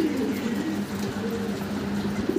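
A pair of black Mundi pigeons coo steadily up close, low throaty calls rolling continuously through the whole stretch with no talk over them.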